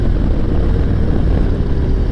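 A 2021 Harley-Davidson Road Glide CVO touring motorcycle pulls smoothly in fourth gear at about 45 mph on a road, giving a loud, steady engine drone blended with wind rush and no break.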